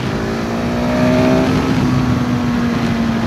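A 2020 KTM 690 SMC R single-cylinder supermoto engine is held at high revs, a loud, close, sustained buzzing drone that barely wavers, with no voices over it.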